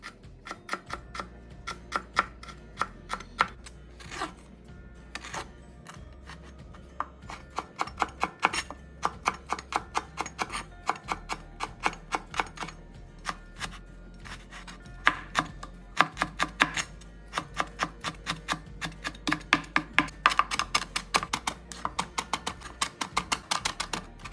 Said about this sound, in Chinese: 将处理后的梅菜切细，